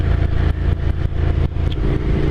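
Ducati Scrambler motorcycle with an air-cooled 803 cc Monster engine rumbles loudly and close, a deep, throbbing exhaust note with faint clatter and no speech.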